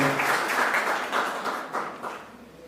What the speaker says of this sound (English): So let's welcome again the trainer of SOT TTI with a warm round of applause.